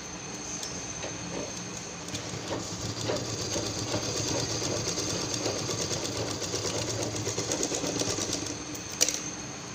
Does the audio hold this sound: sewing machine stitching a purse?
yes